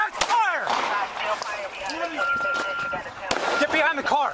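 Gunfire during a police shootout, heard through a bodycam: several sharp cracking shots are scattered over a few seconds, and excited shouting and talking run throughout.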